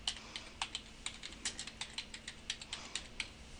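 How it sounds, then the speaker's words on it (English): Someone types a search on a computer keyboard. The keystrokes come as quick, irregular clicks, close and fairly quiet, with no talking. "so I'm going to type in"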